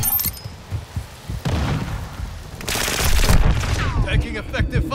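Bursts of gunfire and explosive booms in Call of Duty: Modern Warfare 2 on PC come in loud, irregular volleys, with sharp shots, heavy impacts and crashing debris alongside radio-style game voices.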